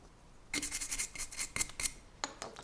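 A carving knife makes a stop cut into a wooden face carving, giving short, close scraping and slicing strokes in a few quick clusters with brief gaps between them.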